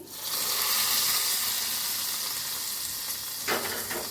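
Asafoetida, curry leaves and red chilies temper in hot oil with a steady, close sizzle and crackle, a brief louder spatter near the end, and no talk.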